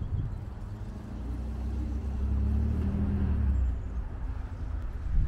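A 1963 Corvair engine runs a little rough while the car pulls away in first gear, a steady low rumble that swells and eases over a few seconds.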